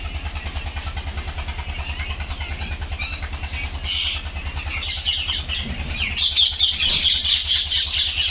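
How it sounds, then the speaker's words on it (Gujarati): Parrots call in bursts over a steady, low engine hum, the squawks growing busier and louder toward the end. "ખાલી તમે પોપટની અવાજ સાંભળો."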